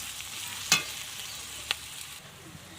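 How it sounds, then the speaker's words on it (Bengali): Onion and garlic paste frying in a pan while being stirred, a soft continuous sizzle broken by a few sharp scraping clicks of the spoon against the pan. "এবার পেঁয়াজ আর রসুনটা খুব ভালোভাবে ভেজে নেব"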